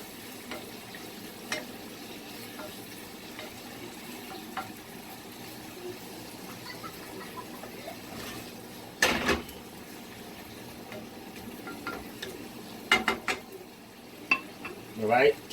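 Seafood medley with fresh vine tomatoes cooking in a pan, a soft steady sizzle with occasional utensil scrapes and clinks against the pan, close and quiet with no talk.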